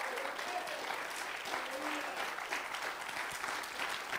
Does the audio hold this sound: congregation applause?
yes